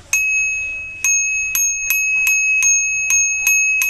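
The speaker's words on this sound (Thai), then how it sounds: "ซิมเปิลที่สุดง่ายที่สุดแล้วก็สุภาพมากเสียงแบบนี้ทองเหลืองแท้" A real brass bicycle bell made by Rockbros rings out clearly up close, about nine bright metallic dings in an uneven sequence, each tone sustaining briefly before the next strike, with no talking.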